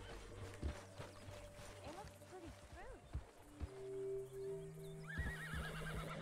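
A horse in Red Dead Redemption 2 whinnies and neighs several times with high wavering cries, mixed with clip-clop hoofbeats, snorts and ambient game sounds while someone speaks to it.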